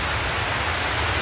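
Typhoon Paolo in rural Ragay brings steady rain and wind, a dense unbroken hiss with a low rumbling gust underneath, close and continuous for about a second.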